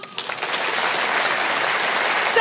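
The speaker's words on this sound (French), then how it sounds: "Il y a des hommes ce soir dans la salle par applaudissement" A live comedy show audience applauding in the hall, a dense even burst of clapping that swells from a few first claps and holds steady to the end.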